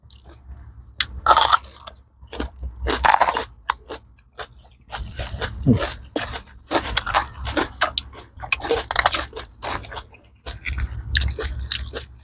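Close, wet chewing and crunching while eating bitter mushroom salad (koi hed phueng khom) with fresh vegetables, rhythmic bites in bursts with brief pauses, no talk.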